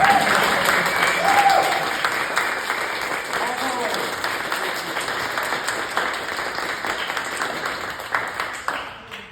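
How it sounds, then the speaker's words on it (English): Applause from an audience at an author talk at Harvester Arts in Wichita, Kansas, dense sustained clapping that starts loud and slowly thins over about nine seconds, with voices mixed in. "can we please give a round of applause?"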